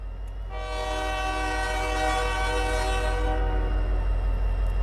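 A long, sustained SD70ACU diesel locomotive horn blares in the Trainz railroad simulator game, a loud multi-chime tone holding for about three seconds before cutting off, over a steady low rumble.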